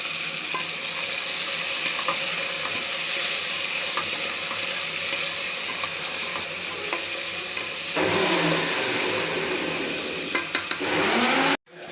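Large tomatoes and chillies sauté in a pot for chicken biryani, making a constant close sizzle with scraping stirs and occasional ticks, ending in an abrupt cutoff.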